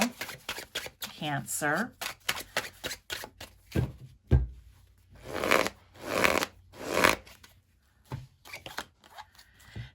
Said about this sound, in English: I'm going to pull out a tarot for this one as well